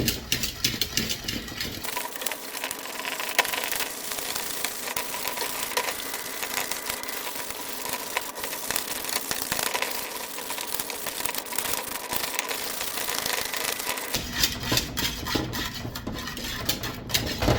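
Pastry cream being stirred in a pot, a continuous close scraping and clinking of utensil against metal with a busy rhythmic texture, steady throughout.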